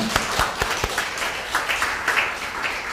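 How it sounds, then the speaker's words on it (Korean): A church congregation at Sunday worship claps in encouragement for a departing member, a short burst of scattered hand claps with a few sharper individual claps standing out. "잘 가서 미국에서도 생활 잘하라고 격려 박수 해주시면 좋겠습니다"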